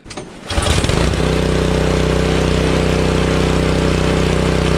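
A Honda HS520 snowblower, saved from the curb with a varnished carburetor, cranks briefly and catches, then settles into a loud, steady single-cylinder running drone close by.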